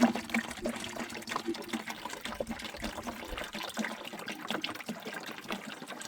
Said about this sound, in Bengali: পানি পড়ে গেছে।